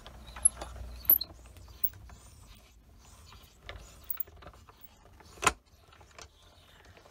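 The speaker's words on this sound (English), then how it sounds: "We're going to pull in our machine and we're going to run it through." A Spellbinders BetterPress letterpress machine being run through, giving scattered mechanical clicks, ratchet-like ticks and small metallic knocks, with one louder clunk near the end, close and fairly quiet.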